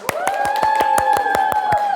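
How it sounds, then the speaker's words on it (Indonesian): Participants in a teacher-training class at Universitas Negeri Manado clap in a quick, even rhythm, about ten crisp, close claps in a row over a sustained musical tone. "Tepuk tangan yang menggila."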